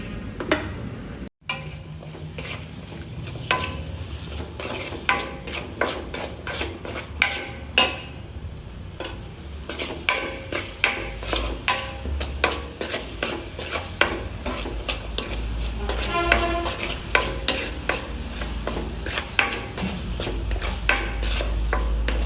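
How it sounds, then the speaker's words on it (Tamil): Chopped large onions with garlic and salt fry in hot oil while a spoon stirs them against the pan, giving a steady sizzle broken by frequent sharp scraping taps, close and continuous, with no voices. "நம்ம வெட்டி வச்சுருக்க பெரிய வெங்காயத்தை போட்டு நல்லா ஃப்ரை பண்ணணும்"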